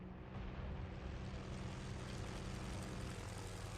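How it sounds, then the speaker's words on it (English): A propeller airplane sweeps past during a tank battle video game, a steady broad engine roar with low droning hum that stays loud and constant, no voices over it. "One of the airplanes just flew through my vision."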